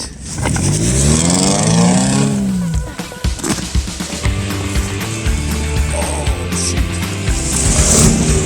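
A Mercedes W202 1.8 drifting on snow: the engine revs loudly and rises in pitch, dips briefly, then holds a strained, high, wavering drone close by as the car slides through a turn.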